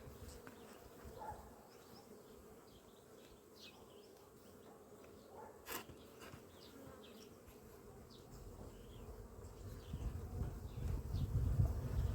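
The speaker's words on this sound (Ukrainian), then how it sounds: "І бо бджоли дуже багато, бачите. І там вона всюди." Many bees buzz in a continuous, droning hum, close and steady, growing slightly louder toward the end.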